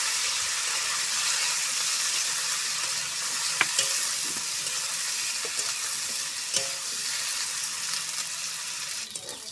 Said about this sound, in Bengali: পটলটাকে তেলে ভেজে নেবো